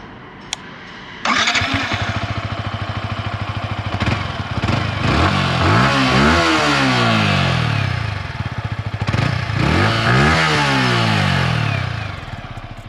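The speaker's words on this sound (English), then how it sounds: "Now let's check out the exhaust note of the MT-15 and take it out for a ride." A 2021 Yamaha MT-15 155cc motorcycle starts up close and loud, settling into a steady idle before its exhaust is revved repeatedly in sharp rising and falling bursts, with no voices.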